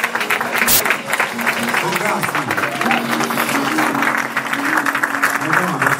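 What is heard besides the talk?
applause in church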